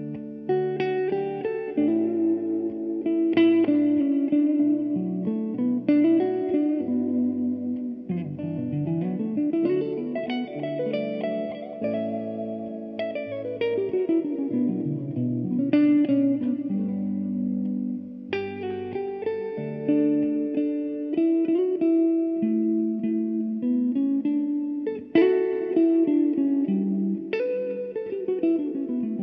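Electric guitar solo running through effects such as reverb and light distortion, picking deliberate melodic lines that outline each chord of a progression; a steady, sustained stream of notes with no talking.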